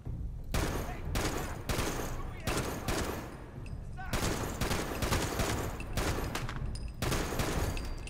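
Browning .50 machine gun firing in Fallout 76, long loud bursts of rapid heavy gunfire separated by short pauses, with faint talk in between.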